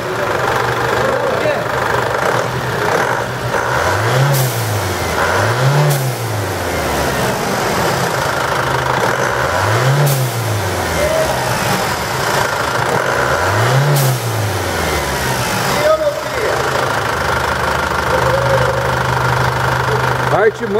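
A gasping Chevrolet Blazer diesel engine runs throughout, surging in about four rising-and-falling revs against a steady knocking rumble.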